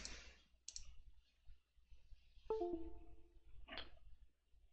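A couple of sharp, quiet computer mouse clicks in a quiet room as a document scan is started, with a brief electronic tone and faint handling noise around them.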